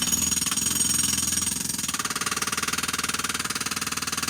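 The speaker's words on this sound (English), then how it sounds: "he will just reach his arm in and jackhammer out a very strong piece of stone" Excavator-mounted hydraulic jackhammer breaking out very strong stone while digging out a house, a fast steady pounding rattle that continues the whole time, fairly distant and alone.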